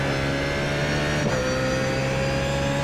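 A BMW Z4 GT3 race car engine drones under steady throttle at Brands Hatch in a racing game, a loud continuous tone with a brief pitch shift partway through as it changes gear.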